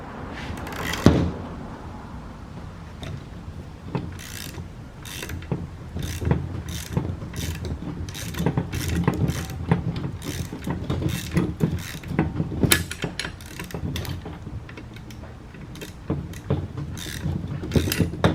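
A 17mm wrench ratchets on the front strut nut of an Acura RSX, rapid clicking bursts repeating in close, loud runs with short pauses between pulls.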